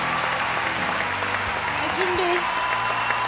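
Studio audience applause on a Turkish televised singing competition, a broad steady wash of clapping from a crowd with a voice speaking over it.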